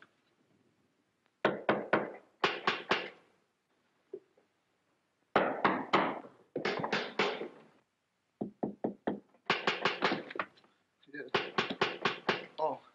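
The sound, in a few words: pounding on a door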